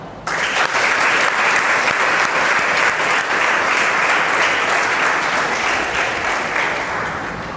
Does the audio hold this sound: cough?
no